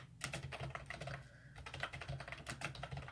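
Rapid keyboard typing at a desk, a steady patter of key clicks running continuously from start to finish with a low hum underneath.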